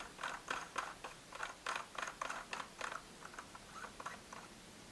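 Shotgun barrel extension for a UTS-15 being threaded by hand into the barrel, giving a quiet series of light metallic clicks and ticks in an uneven rhythm, close and faint, with no talking.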